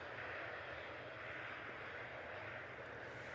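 An Aer Lingus airliner arriving from Dublin and touching down at Manchester Airport, a steady broad roar of engine and rushing air held at even loudness throughout, with no voices.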